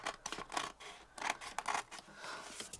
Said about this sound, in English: then we're just going to trim around it